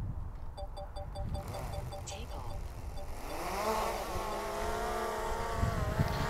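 Electronic beeps give way to a rising whine as a DJI Air 2S drone's small propellers spin up, a buzzing motor climbing in pitch, close by with a voice talking, on a slightly windy day.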